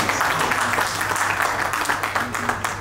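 Applause from an audience at a fire-services event honouring Dr DK Shami, a dense run of clapping that carries on evenly throughout, with voices mixed in.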